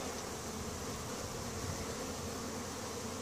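Honey bees swarm in a crowded beehive during a honey super addition, a dense continuous buzzing hum, close and steady with no pauses.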